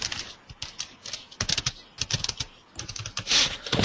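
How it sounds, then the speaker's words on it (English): Fingers type on a computer keyboard in quick, uneven bursts of clicks and clacks, close and crisp, with brief pauses between runs of keystrokes and no talking. "Yeah, I'm typing here."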